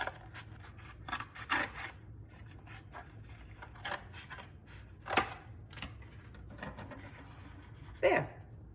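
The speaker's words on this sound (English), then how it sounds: "We're just gonna cut a big ribbon out of this paper towel tube." Scissors snip through a cardboard paper towel tube in a series of quiet, irregular cuts and crunches, with a louder crisp snip near the end, close by and with no voices.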